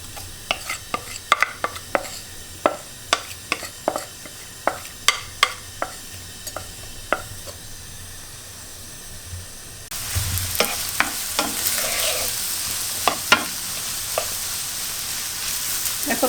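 Chopped onions fry in olive oil in a pan, sizzling steadily while a spoon scrapes and stirs in repeated sharp clacks, getting louder and hissier in the second half.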